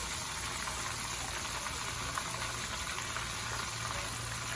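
Chicken sandwich pieces frying in a pot of hot oil, a steady, fairly quiet bubbling hiss that stays even throughout with a faint low hum beneath.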